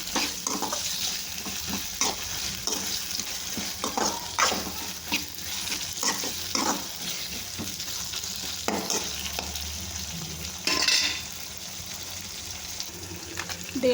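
Sweet corn kernels cooking in hot oil in a pan, with a steady sizzle and frying crackle broken up by repeated scraping stirs, close and fairly loud, with no voices.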